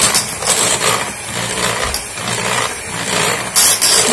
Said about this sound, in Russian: У меня не мощный миксер, но взбивает тоже очень хорошо.